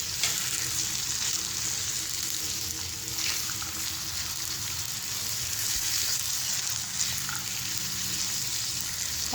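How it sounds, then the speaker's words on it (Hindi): Veg noodles tossed in a hot pan with soy sauce and chili sauce, a dense continuous sizzle close up with occasional stirring clatter, no voices. "अब हम इसके अंदर सोया सॉस ऐड करेंगे, साथ ही हम इसके अंदर चिली सॉस ऐड कर देंगे। अच्छे से मिक्स कर लेंगे।"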